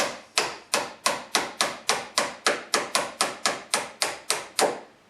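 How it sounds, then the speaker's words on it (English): A small ball peen hammer taps factory door bushings out of a Jeep JK door hinge, about fifteen sharp metallic strikes in a steady, even rhythm, close and clear with no talking. "We're tapping the factory ones out."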